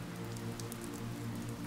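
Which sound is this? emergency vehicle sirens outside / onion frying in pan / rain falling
rain falling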